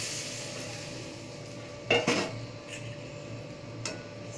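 Fish pieces, pomfret, going into simmering curry gravy in a pan, heard as a couple of sharp metallic clinks and scrapes close by, followed later by one lighter clink over a quiet kitchen background.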